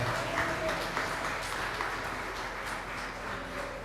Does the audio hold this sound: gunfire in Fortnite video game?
no